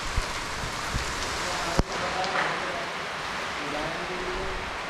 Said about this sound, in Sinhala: මාර විදියට වහිනවා